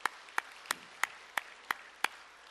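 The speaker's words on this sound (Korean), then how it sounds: "하나님께 영광의 박수 합시다." A church congregation claps in unison at a year-end worship service, producing seven sharp, evenly spaced claps at a brisk steady beat, each one crisp and clear in a quiet room.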